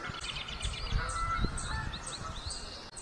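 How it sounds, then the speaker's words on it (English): Geese honking and calling repeatedly at a moderate distance, a series of overlapping nasal cries over low background rumble. "Boy, these geese are going wild the last few days."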